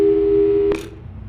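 A telephone call tone in the video game Portal 2, a loud steady electronic beep held for under a second, then cut off by a short burst of static-like noise, with a low hum continuing faintly afterward.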